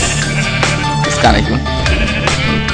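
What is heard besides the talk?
sheep bleating in the video game Minecraft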